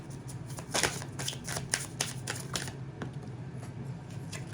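Tarot cards are shuffled close up, a quick run of crisp riffling flutters and soft snaps, fairly quiet, with no one speaking.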